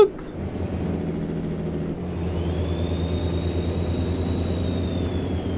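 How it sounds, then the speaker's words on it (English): A Kenworth W900 truck engine in American Truck Simulator rumbles steadily up close, a deep, continuous low drone with a whirring tone that rises partway through, with no talk. "That's how a truck should sound."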